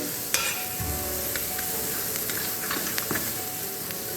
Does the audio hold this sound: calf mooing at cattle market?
no